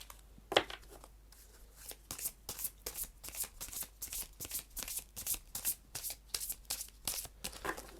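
Tarot cards handled and laid down on a table, a steady series of soft, crisp slaps and slides close by, repeating at an irregular pace with no talk.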